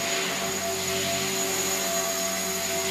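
Helicopter in flight close by, a steady loud broadband engine and rotor roar with constant tonal whine lines, continuous without breaks and with no voices over it.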